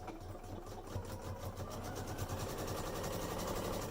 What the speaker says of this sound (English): I'm just going to sew 1/4 of an inch in around on one curve